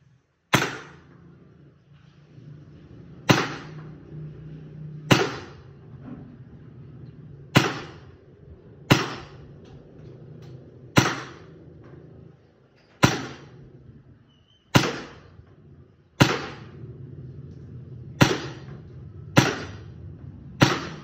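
A Tokyo Marui Hi Capa 5.1 airsoft pistol fires .25g BBs about ten times. Each shot is a sharp, loud crack with a short fading tail, spaced a couple of seconds apart, with no voices between shots.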